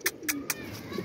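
Pigeons coo in three quick, bright calls within about a second, heard close and moderately loud over faint background noise, with no talking.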